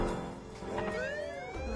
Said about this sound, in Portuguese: a polícia já ligou a sirene